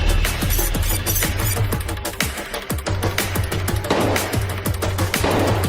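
Rapid gunfire as a police officer shoots at a fleeing man indoors: dense bursts of sharp cracks over a steady low hum, loud and close, with no talk.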